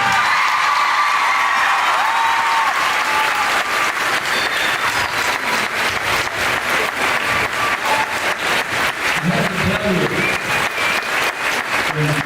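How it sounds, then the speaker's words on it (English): A middle school audience at Olympia Lake Middle School in 2011 applauds Chuck Norris. Loud, sustained clapping fills the room, with cheering, whoops and children's shouts mixed in. "Let's have a great big round of applause for Mr. Norris."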